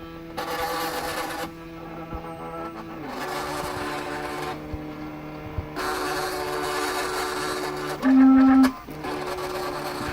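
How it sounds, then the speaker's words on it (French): A 3.5 W laser cutter cuts out a sticker while its fan runs, giving a steady mechanical whir with several pauses and resumptions and a short, louder tone near the end. "On voit la fumée qui est créée par la découpe, qui est aussitôt dégagée avec le ventilo du laser."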